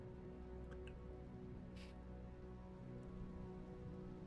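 Steady rain ambience playing as a background sound effect during a tabletop role-playing session, a quiet continuous hiss of falling rain with a low hum, no talking.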